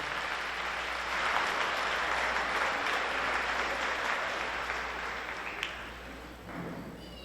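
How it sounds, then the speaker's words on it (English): Sustained applause from a high school athletic banquet audience for the athletes' parents, steady dense clapping that fades slightly toward the end. "give your parents a round of applause for all their hard work, dedication, sandwich making, everything they've done for you"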